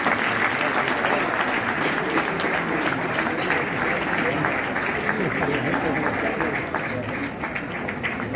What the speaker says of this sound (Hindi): जोरदार तालियों से इनका सम्मान करें।